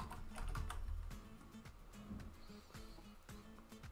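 A password goes in on a computer keyboard as a rapid, uneven run of close, crisp key clicks for about four seconds, with no talk over it.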